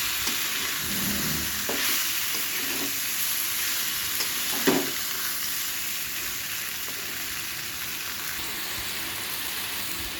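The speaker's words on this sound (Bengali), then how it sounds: "বেগুন কিন্তু ভাজা হয়ে গেছে এখন এর মতো অবস্থায় এগুলো দিয়ে দিলাম কেটে রাখা এই সবজিগুলো" Chopped vegetables go into a pan of fried eggplant and sizzle loudly and steadily, with a few stirring scrapes and one brief clatter midway, no talking.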